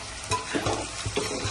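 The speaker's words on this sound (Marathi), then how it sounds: "कांदा भाजी चालू आहे" Onions frying in a pan in a busy outdoor cooking setting, a steady sizzle broken by a few short stirring scrapes, close and moderate in level.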